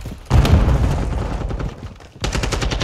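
Rapid bursts of gunfire from the video game Call of Duty: Modern Warfare 2, loud and close, with heavy booming shots at the start, a short lull, then another sustained volley.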